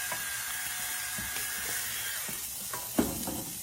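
Pork with garlic, salt and pepper sizzles in a pan while being stirred, a steady hissing fry with soft scraping strokes and one sharper knock near the end.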